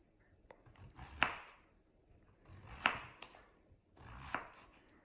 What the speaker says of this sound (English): To julienne this zucchini, we take off the end, get a nice small chunk, and we're just going to go through with even slices.